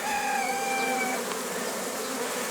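Honeybee colony returning home to the hive, a dense close buzzing hum of many bees in flight with a few individual higher-pitched drones passing by, steady and without voices.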